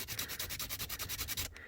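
Sandpaper wrapped around a handle rubs back and forth over a wooden slingshot handle during hand sanding, giving a steady rhythmic scraping of about a dozen even strokes, close and clear, with no talk.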